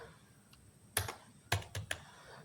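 A few quick bursts of keystrokes on a computer keyboard, typing a line of code, with clustered clicks around the one-second and one-and-a-half-second marks over a quiet room hum.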